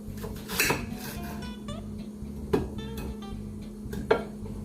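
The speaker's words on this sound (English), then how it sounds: "And then we're gonna cut the onion." A knife slices an onion on a kitchen cutting board while pasta with tomato sauce and green olives is prepared: three sharp, close knocks of the blade spaced a couple of seconds apart, with soft kitchen clatter between them.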